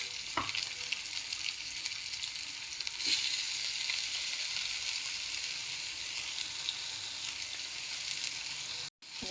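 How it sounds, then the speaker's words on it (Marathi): Chopped onion and moong dal frying together in a pan, giving a continuous even hiss and sizzle close by, with a faint clink early on and no voices. "कांदा लाल पर परतून घेते मस्तपैकी लाल होतो"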